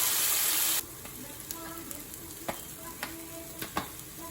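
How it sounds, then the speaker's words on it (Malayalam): Grated coconut sautéing in a pan for tomato chutney, with a loud sizzle burst at the start settling into a low fry and several sharp scrapes of a spoon against the pan. "തേങ്ങ ഇട്ട് അതിട്ടൊന്ന് വഴറ്റി"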